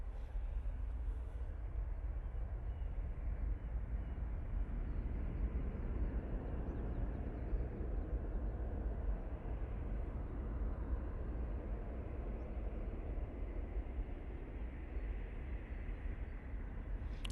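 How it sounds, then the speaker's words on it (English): An airplane takes off at Manchester Airport using the full runway length, heard as a steady, distant low roar of jet engines that holds for the whole stretch with no clear rise or fade. "Using quite a bit of runway for full length takeoff."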